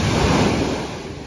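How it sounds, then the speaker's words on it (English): Ocean surf crashing onto a beach at Maho Bay, St. John in the US Virgin Islands at night, a steady loud wash of breaking waves that slowly eases, with no voices. "The waves are crashing bigger than we've seen."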